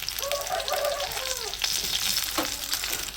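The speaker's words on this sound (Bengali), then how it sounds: "রান্নাটা করি ডিমটা ভাজা হোক তাড়াতাড়ি" An egg frying in hot oil in a village kitchen, a loud continuous sizzle and crackle with no voices.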